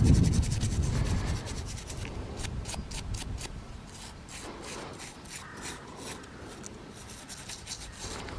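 A thin metal fleur-de-lis object being lightly scrubbed by hand, a continuous close rasping and rubbing with rapid repeated strokes throughout.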